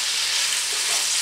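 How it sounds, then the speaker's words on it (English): Salt and pepper beef sizzling and frying in a pan while being stirred, a close, steady hiss with faint scraping. "I'm going to stir them up a little bit."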